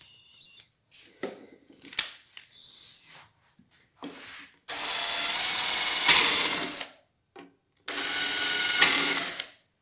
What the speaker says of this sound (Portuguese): Aqui eu estou usando o escariador direto.